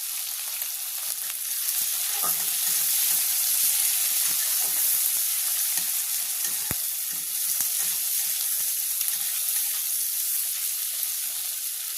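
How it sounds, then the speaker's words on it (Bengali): Onions and green chillies frying in oil with cumin, a continuous bright sizzle with scattered stirring clicks and spoon taps against the pan, no talking. "এইভাবে নাড়াচাড়া করে পেঁয়াজটা ভেজে নেব"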